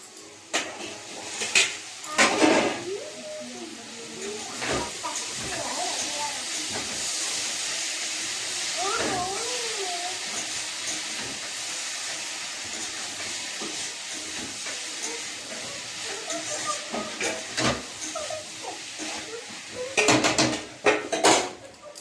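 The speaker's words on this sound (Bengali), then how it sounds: "এই শঙ্কর মাছটা আমি ভালো করে মশলা আদা রসুন আর নুন আর হলুদ দিয়ে মেখে ভাজলাম" Stingray pieces coated in ginger, garlic, salt and turmeric fry in hot oil, giving a steady sizzling hiss with occasional clinks of utensils against the pan, fairly close and without talk.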